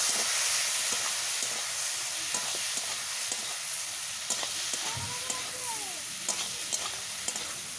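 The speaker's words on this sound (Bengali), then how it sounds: "এরপর নাড়াচাড়া করে আমি আলু বেগুনের সাথে মশলা ভালোভাবে ভেজে নেব।" Spices sizzle with potato and eggplant in a pan, a steady frying hiss broken by repeated scraping stirs of a spatula, fairly close and alone without talk.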